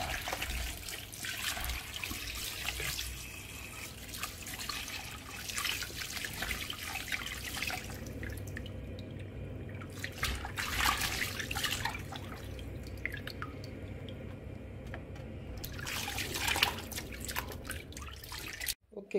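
Water runs and trickles steadily at low volume, with splashing and clattering bursts as spinach is rinsed by hand in changes of plain water.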